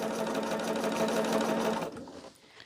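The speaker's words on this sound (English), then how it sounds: "we are just going to sew whatever we can" A sewing machine runs steadily as it stitches orange print and black fabric squares for a pumpkin quilt block, with a fast, even, buzzing rattle close up that stops abruptly near the end, leaving quiet handling noise.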